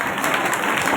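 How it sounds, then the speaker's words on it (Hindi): Audience applause at a women's group stage drama performance, a dense burst of clapping from a crowd that fills the whole moment evenly and loudly. "जोरदार तालियां एक बार।"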